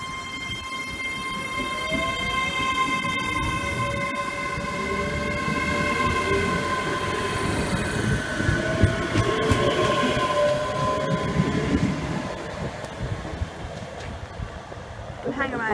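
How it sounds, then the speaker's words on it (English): A Hitachi Class 385 AT200 fast train passes close by, with a sustained rumbling roar, steady harmonic whine and rail clatter building and holding throughout, and faint talk in the background. "For the fast train because it's been announced and it's speeding up."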